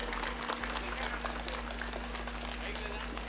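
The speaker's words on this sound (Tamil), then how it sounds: "தயவுசெய்து ஒரு நிமிஷம் உங்களுக்கு நீங்களே ஒரு கைத்தட்டு கொடுத்துக்கங்களேன்" A lecture audience in a hall gives a round of applause, a rapid scattered patter of many hands at a fairly low level over a steady background hum.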